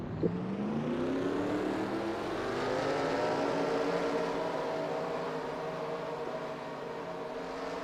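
Race car engines at Pocono start and roll off together, a faint, distant droning whose layered pitches climb slowly and hold in a smooth, continuous hum.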